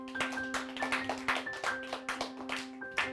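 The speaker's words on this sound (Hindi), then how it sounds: "चलो ताली बजाओ।" Children clap their hands in a classroom setting, a run of about a dozen sharp, fairly even claps over a few seconds against a steady background hum, with no talking.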